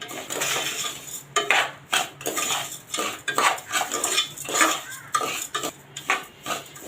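A metal spoon stirs broken wheat roasting in ghee in a steel pan, giving rapid repeated scraping and clinking strokes in an irregular rhythm, close and fairly loud with no voices.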